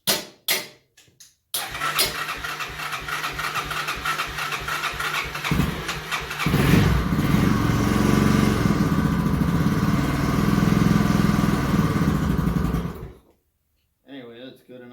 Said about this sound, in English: So the starter is trouble engaging.